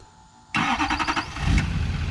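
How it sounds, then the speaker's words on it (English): A cammed Chevrolet Silverado truck engine fires up via remote start from a Boost Auto key fob, a sudden loud crank catching into a rough, throbbing idle that settles and swells slightly. "So even the remote start works"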